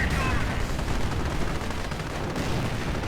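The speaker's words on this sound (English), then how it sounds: "And another Henschel strafing run." Henschel ground-attack aircraft make a strafing run in a World War II strategy video game, with a dense, continuous roar of cannon fire and battle noise throughout.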